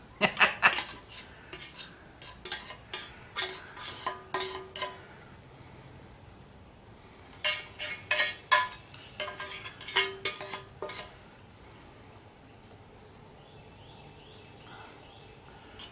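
A fork scrapes and clinks against a camp pan while someone eats pasta with salmon and snap peas straight from it, in bursts of quick metallic taps with a pause midway, close and fairly loud.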